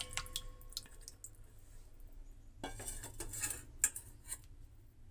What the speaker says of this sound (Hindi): तो ये सारी दाल मैं इस पतीले में डाल दूंगी